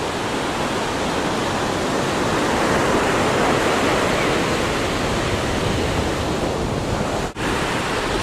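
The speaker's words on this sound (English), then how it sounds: "The wind at my back, feel the wind here" Strong outdoor wind buffets the microphone with a constant, loud broadband roar at a boomerang-throwing spot, dropping out for a brief instant near the end.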